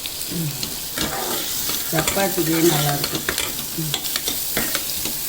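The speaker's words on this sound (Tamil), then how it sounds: "தண்ணி ரொம்ப ஊற்றக்கூடாது நல்லா வதங்கட்டும் வதங்கவும்" Onions sizzle and fry in a pan while a utensil stirs and scrapes at intervals; a voice speaks briefly over the cooking.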